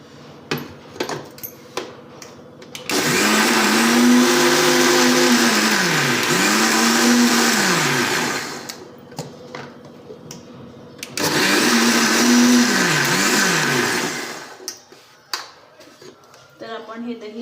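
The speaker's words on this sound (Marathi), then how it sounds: "आता हे दही आपल्याला मिक्सरमधून फिरवून घ्यायचं आहे" A mixer grinder blending curd whirs loudly in two long bursts, the first about five seconds and the second about three, its motor pitch dipping and rising, with clattering and handling noises in the quiet gaps.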